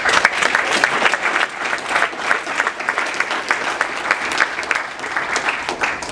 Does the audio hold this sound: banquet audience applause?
yes